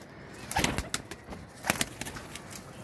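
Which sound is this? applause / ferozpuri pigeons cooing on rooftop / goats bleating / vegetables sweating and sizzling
ferozpuri pigeons cooing on rooftop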